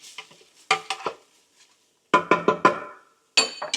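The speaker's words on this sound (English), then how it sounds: "I'm gonna add my cauliflower rice. Give it a quick stir." Cauliflower rice being stirred in a pot set to sauté on high, giving brief clusters of scraping, clinking strokes separated by quiet gaps, close and fairly loud.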